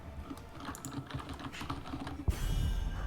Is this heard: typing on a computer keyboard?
yes